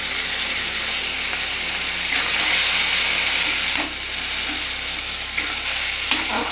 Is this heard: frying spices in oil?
yes